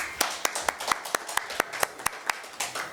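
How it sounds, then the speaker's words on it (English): A small audience at a Saturday-morning legislative forum in Slater claps for the legislators, giving sparse, distinct individual claps in an uneven rhythm. The applause is fairly quiet and close, with nobody speaking. "please join me again in giving them a round of applause"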